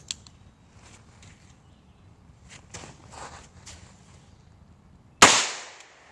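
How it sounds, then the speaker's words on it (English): A shot from an 1895 Nagant revolver firing .32 Long Colt into a dirt berm, one loud sharp report near the end with a short decay, preceded by quiet shuffling and small handling noises outdoors. "I'm going to take a couple shots at the berm right here, okay?"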